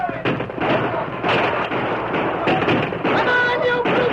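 Gunfire during a cavalry charge in an old-time radio drama, with dense, overlapping loud shots and battle noise crowding the scene, mixed with shouting voices.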